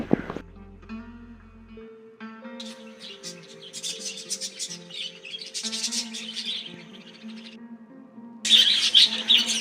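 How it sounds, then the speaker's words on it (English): Budgerigars chirp in a zoo aviary, a busy overlapping chatter of warbles, squawks and tweets that rises and falls continuously, with a louder burst of shrill calls near the end. "These are the Budgerigars, colorful birds of the parakeet family."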